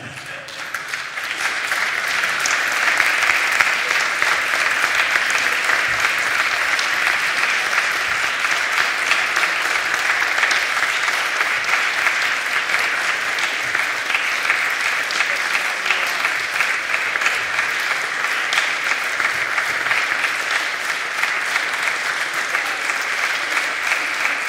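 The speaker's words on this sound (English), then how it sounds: "we give them one final round of applause" A large audience applauds children presenters at a Python conference show-and-tell, a steady, dense wash of clapping that swells in after a second and holds loud and even for over twenty seconds.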